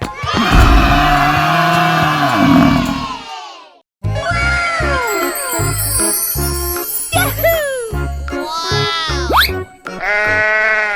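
Sheep in a 3D animal slide game bleat in a loud, wavering cry, followed by a string of cartoonish jingles and playful game sound effects.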